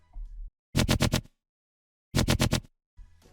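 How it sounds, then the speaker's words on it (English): A gritty, nasty synth fill made in Serum for a tech house drop plays as two short bursts of four rapid pulses each, separated by silence, loud and alone. "To fill up spaces in the drop I made this little synth fill in Serum which sounds like this."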